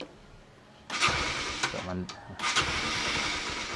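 Motorcycle electric starter cranking the engine in neutral, a short burst of cranking then a catch into a brief rough idle and a second surge, close and fairly loud.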